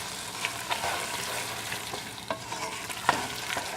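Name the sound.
stirring shredded cheese into pepper mac and cheese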